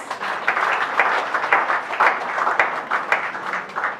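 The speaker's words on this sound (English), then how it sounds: "Another resounding applause!" Audience applause after a government commissioner's presentation on a cleaner, greener Anambra, a dense, steady wash of many hands clapping that holds at an even, loud level throughout with no voices over it.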